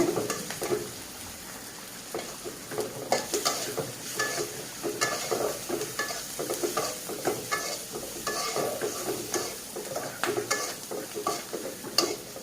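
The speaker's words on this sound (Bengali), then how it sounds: "স্বাদ মতো লবণ, হলুদের গুঁড়া, জিরের গুঁড়া দিয়ে দিলাম। দিয়ে এবার একটু ভেজে নিয়ে" Salt, turmeric and cumin powder frying with stirring in a pan for spinach curry, a steady close sizzle broken by repeated scraping strokes of a spoon, with no voices.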